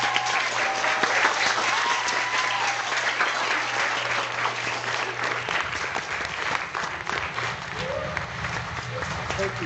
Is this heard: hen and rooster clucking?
no